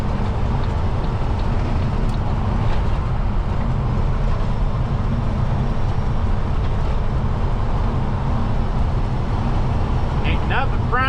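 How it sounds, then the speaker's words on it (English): A long freight train running past in Wyoming, a loud continuous rumble and rolling clatter close by for over ten seconds, with a faint squeal near the end. "Long ass trains running out here."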